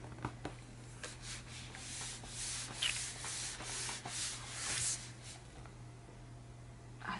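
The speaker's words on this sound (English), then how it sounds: "We're just going to rub that in." Something is rubbed into a junk journal page by hand, a soft, steady scratchy rubbing in close strokes over a low constant hum, fairly quiet and without talk.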